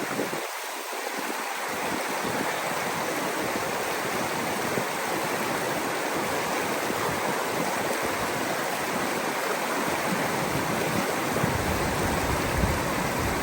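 Water of a stream in Utah rushes steadily and loudly, a continuous broadband wash that stays even throughout, close to the microphone and without voices.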